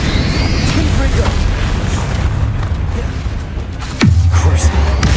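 The Confringo blasting spell in the Hogwarts Legacy game goes off as a loud, booming explosion. Deep rumble fills the whole clip, with a sharp burst near the end, under game voices and effects.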